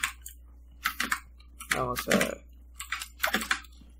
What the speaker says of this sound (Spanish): Ese teclado. Teclado de los dioses.